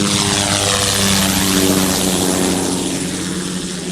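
Helicopter in flight, a steady, loud, close rotor and engine roar with a dense, droning hum that holds for several seconds and eases slightly toward the end.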